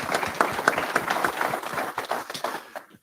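A small audience at a mentoring summit gives brief, scattered applause, moderately loud at first and thinning out to a few last claps before it stops.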